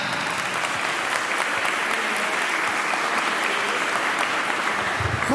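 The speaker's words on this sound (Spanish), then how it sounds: "por favor, señoras y señores, un aplauso para Nicolás" An audience at a live talk applauds warmly to welcome a speaker on stage, with loud, continuous, even clapping that holds for the whole stretch with no one speaking over it.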